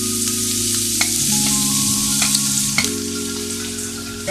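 Onions sizzle in hot oil in a kadai for street-side masala puri, a steady, close frying hiss with a constant hum underneath and occasional small clicks, no voices.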